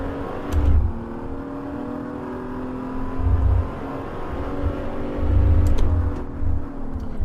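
A BMW Z4 engine in Assetto Corsa revs in repeated bursts, rising and falling across several throttle blips over a steady engine drone, with no talk.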